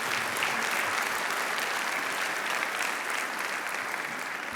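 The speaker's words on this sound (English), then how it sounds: "I need you all to give yourselves a round of applause this morning" A morning audience at a conference on homelessness breaks into a round of applause, thick continuous clapping from a big room that holds steady and tapers slightly at the end.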